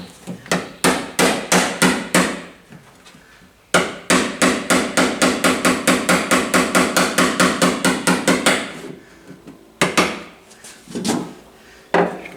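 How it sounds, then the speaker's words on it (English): Rapid, ringing metallic blows of a hammer on a dolly against a car body panel, close and loud, in fast steady runs with short pauses between bursts. "I'm going to grab a little hammer and a dolly."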